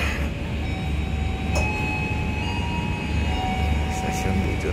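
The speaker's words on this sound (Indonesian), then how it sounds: "Stasiun Bojonegoro. Sedang di Argo Bromo Anggrek dengan tujuan akhir stasiun Gambir, jalur 3 siap" The Argo Bromo Anggrek passenger train stands idling at Bojonegoro station, a steady low mechanical rumble with a thin high whine running through it.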